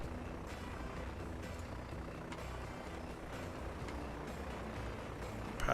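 A Junkers passenger aircraft in the transport simulation game Transport Fever, a faint steady engine drone with light mechanical hum and a few soft ticks, rising slightly at the very end.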